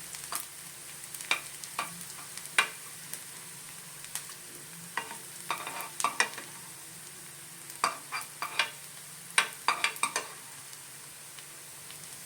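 Spices frying and being stirred in a pan while preparing alsandri kaal saaru, a cowpea curry, with soft sizzling and intermittent sharp scrapes and taps of a spoon against the vessel, fairly quiet and close.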